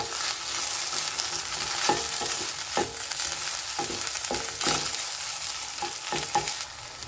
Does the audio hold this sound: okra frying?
yes